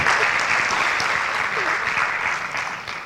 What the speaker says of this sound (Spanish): Denle el aplauso a ella que me soporta.